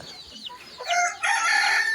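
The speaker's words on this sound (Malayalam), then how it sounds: "നാടൻ കോഴിൻ്റെ മറ്റൊരു ഇനം തന്നെയാണ്" A native breed rooster crows loudly and close, rising into a long sustained call after brief clucks from other hens nearby.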